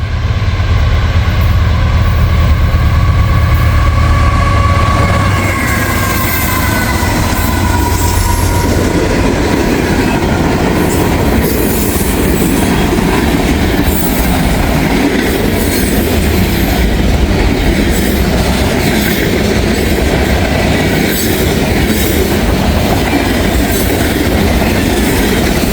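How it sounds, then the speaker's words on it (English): A train rolls past near Walton and Richwood, Kentucky: a loud, steady rumble with rhythmic wheel clatter and a faint metallic squeal running the whole way through, with no voices. "Pretty good train here."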